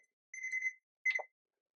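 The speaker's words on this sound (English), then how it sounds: "There's our timer." A kitchen timer sounds while cookies are made on the stove, giving two short electronic beeps, the first a sustained tone and the second a briefer chirp, clear and isolated.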